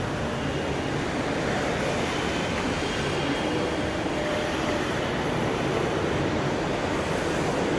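A Kochi Metro train runs along, giving a steady, loud rolling roar with broad rushing noise that holds evenly throughout, with no talk.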